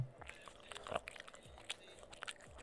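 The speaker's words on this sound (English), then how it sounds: "My dog is chewing on something that she should not have been chewing on." A dog chewing on something, with faint, close crunching and biting clicks at irregular intervals in a quiet room.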